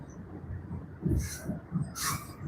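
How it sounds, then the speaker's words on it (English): A train rumbles across a bridge over the Mississippi River, heard from a kayak below as a steady low roar with recurring heavy thumps and bursts of bright hiss, close and continuous throughout. "I hope that noise isn't too much from the train."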